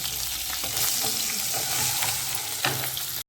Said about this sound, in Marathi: आणि आम्ही चार मिरच्या उभ्या कापून ठेवलेल्या त्या घेतल्या त्याला व्यवस्थित आपण परतून घ्या